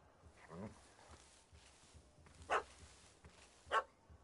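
A dog barks at a cat in The Witcher 3: Wild Hunt, Hearts of Stone, two sharp, fairly distant barks a little over a second apart, with a brief earlier voice and faint background ambience.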